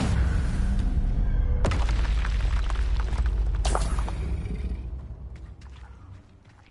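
The Expelliarmus spell effect fires in a wizarding video game: two sudden, loud booming bursts, each followed by a roaring wash that fades out, over a constant low rumble.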